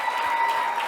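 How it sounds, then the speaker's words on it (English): Dense applause from an event audience welcoming a speaker at an Indigenous-led clean energy gathering, steady and fairly loud throughout the second with no pauses. "Let's give her a round of applause."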